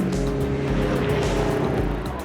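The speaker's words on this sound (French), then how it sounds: "au volant de cette BMW 2002" A BMW 2002 race car at the Spa Classic drives past loudly with a raspy engine roar, set against dense track noise and a wash of wind.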